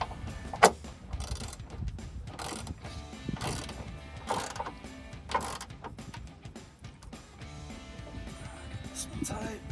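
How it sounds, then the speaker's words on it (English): A 16mm ratchet clicks in quick repeated bursts while tightening a rocker step bolt on a 2021-2023 Ford Bronco during installation of Barricade HD textured black rocker steps. The clicking runs under a speaking voice. "So grab the 16mm ratchet like the front side"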